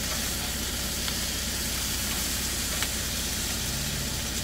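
Onions and mushrooms sizzle and crackle steadily in a hot pan, a continuous hissing fry with occasional small pops, no talking.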